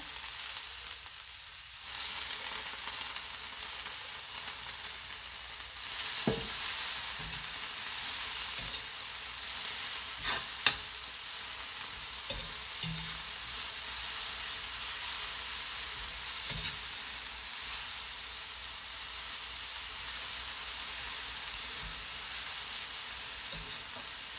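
Vegetables sautéing in a hot pan, a steady loud sizzle that runs throughout with occasional soft stirring knocks and scrapes, close and with no voices.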